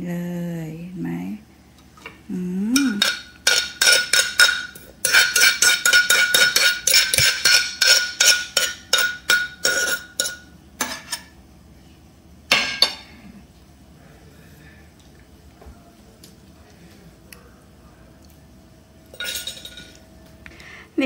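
Kohlrabi som tam salad being pounded in a mortar outdoors in front of a house: bursts of quick, rhythmic clinking pestle strikes, close and fairly loud, with pauses and a few lone knocks, no talking.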